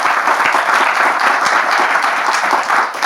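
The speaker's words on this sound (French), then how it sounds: "On peut l'applaudir quand même" A studio audience on a talk show bursts into dense, sustained applause, loud and even throughout with no pauses.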